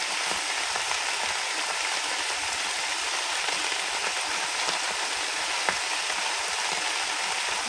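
Garlic and onion fry in a pan with a steady, even sizzle and crackle that runs throughout, close and moderately loud with no talking over it.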